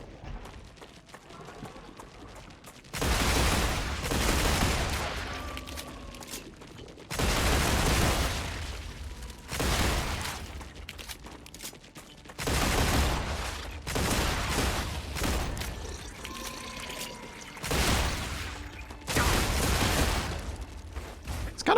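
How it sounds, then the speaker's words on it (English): Gunfire and exploding enemies in the survival factory game StarRupture, set in a sunny field of flowers and butterflies: loud bursts of rapid shooting come in repeated waves of several seconds, with quieter gaps between them. "It's kind of fun shooting these guys and seeing them explode in amongst a field full of butterflies and flowers"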